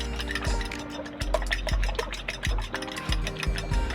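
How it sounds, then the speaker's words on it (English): Egg being whisked in a bowl for coating coconut shrimp, a steady run of rapid rhythmic taps and sloshing strokes, close and fairly loud, with no talking. "So we're just going to whisk our egg."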